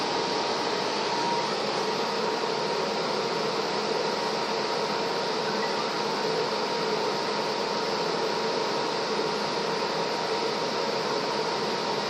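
An SM-767-A air purifier running steadily with HEPA, active carbon, PCO and UVC filtration, giving a constant broadband airflow whoosh with a faint motor hum, unchanging and alone throughout.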